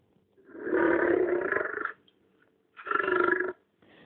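An adult lion roars twice, deep and rumbling: one long bellow of over a second followed by a shorter second roar after a pause, close and loud with nothing else audible.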